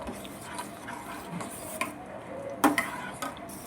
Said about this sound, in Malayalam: അതിലോട്ട് നമുക്ക് അട ചേർത്ത് കൊടുക്കാം. എന്നിട്ടത് നല്ലപോലെ ഇളക്കാം.